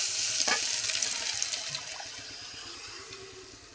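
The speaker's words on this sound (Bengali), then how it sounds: "ডিমের মিশ্রণটা দিয়ে এবার অনবরত এখানে নাড়তে হবে, অনবরত নাড়তে হবে" Beaten egg mixture sizzles and fries in a hot pan while being stirred constantly, a steady close hiss with faint scraping, gradually easing off.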